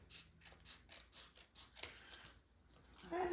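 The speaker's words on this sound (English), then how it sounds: "it's hard to cut in a decent straight line" Scissors snip steadily through material along a straight line, a close, fairly quiet series of rhythmic cuts about twice a second, with a brief scrape near the end.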